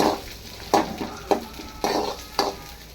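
Onions frying in hot oil in a pan, a steady close sizzle broken by several sharp scraping stirs at irregular intervals, with no voices.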